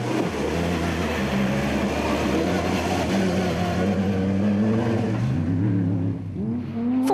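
A factory Ford Racing Ranger race truck in a desert race gives a loud, continuous engine drone with rising and falling pitch, close by and constant throughout, ending in a sharp rev climb.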